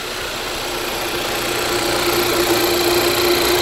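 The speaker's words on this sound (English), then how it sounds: "the engine is running." A repaired Kia Soul engine idles steadily at close range, a continuous even hum with a faint tonal whine and slight vibration throughout, no voices.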